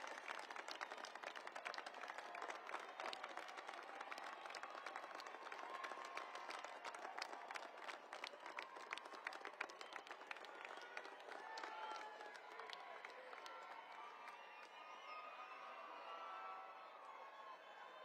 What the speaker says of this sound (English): Stand up and give them a round of applause.